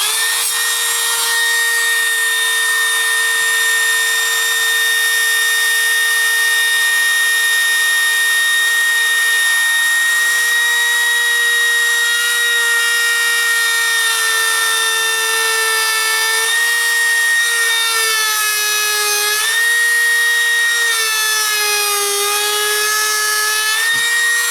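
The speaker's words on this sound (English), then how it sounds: "I'm very gently, I'm not going to drill all the way down to the 1/8 inch thickness" A continuous high-pitched drill whine running into wood, its pitch wavering and dipping as the bit works, steady and close for a long stretch.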